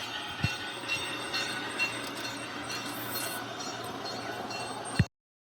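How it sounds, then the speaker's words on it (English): Two garden-scale model trains run together through the railway garden at Gabis Arboretum, Purdue University Northwest, in Indiana, giving a steady rolling clatter with faint clicks and squeals before cutting off abruptly. "The model train here at the Gabis Garden, Purdue University Northwest."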